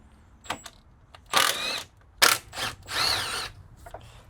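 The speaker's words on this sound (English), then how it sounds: "I'm taking a 13 millimeter with a impact gun" Several short bursts from an impact gun driving a 13 millimeter socket during Corvette maintenance, each buzzing rattle loud and close, separated by brief pauses with no talk.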